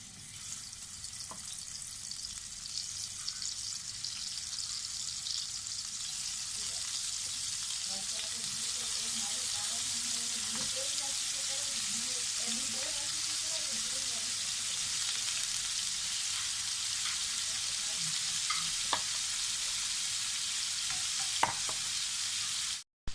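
Prawns frying in hot oil: a steady, bright sizzle that holds for over twenty seconds, with a few faint scrapes and clicks, close and even in loudness.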